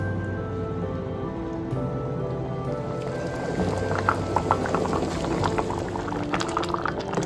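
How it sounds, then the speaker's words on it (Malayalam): Homemade stock coming to a boil in a pot: a low rolling bubble at first, then busier popping bubbles that grow denser and louder toward the end. "നമ്മൾ ഉണ്ടാക്കിയ സ്റ്റോക്ക് തിളച്ചു വരുന്നുണ്ട് കേട്ടോ"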